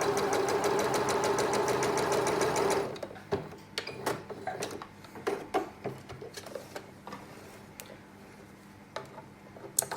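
A sewing machine runs a fast, even stitching rattle for about three seconds while quilt blocks are chain-pieced edge to edge. It then stops, leaving scattered sharp clicks and taps of fabric and machine handling.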